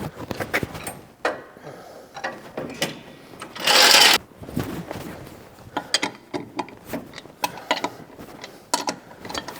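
Bolts being tightened on Armstrong lever arm shock absorbers of a classic car, close metallic ratcheting clicks in short bursts with a louder grinding rasp midway.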